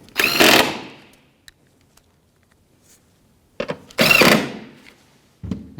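Bolts being refitted on a 2007-2013 Acura MDX taillight give two loud bursts of power-tool whirring, each about a second long, with a few short clicks and thunks between them.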